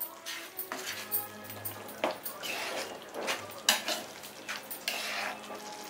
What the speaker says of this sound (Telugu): సో ఇప్పుడు ఇది బాగా మిక్స్ అయ్యేట్టుగా కలుపుకోవాలి